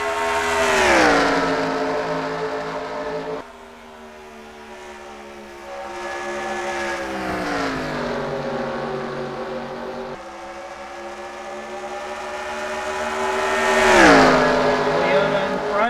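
Toyota, Ford, Dodge and Chevrolet stock race cars roar past in repeated engine passes with rising and falling pitch, loud and close, while a commentator talks over them.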